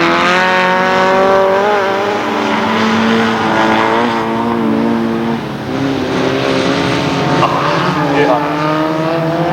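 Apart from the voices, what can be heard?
race cars driving in an autumn rallycross race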